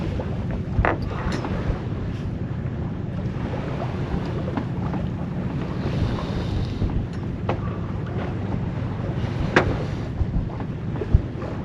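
Steady wind buffets a sailboat under sail off Florida, a broad continuous rush of air and water noise with a few brief knocks and creaks.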